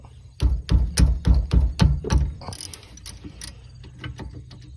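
A ratchet with a 14 mm socket loosens the upper brake caliper bolt on a Nissan Altima, giving a run of six loud, evenly spaced clicks up close, then fainter scattered ticks and handling noise.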